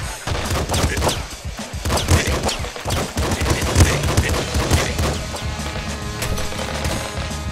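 Shotgun blasts in the top-down shooter Nuclear Throne, a fast volley of sharp punchy shots with crunching impacts and explosions, loud and near in busy overlapping bursts.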